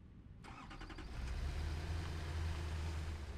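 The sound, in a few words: truck engine starting in video game Satisfactory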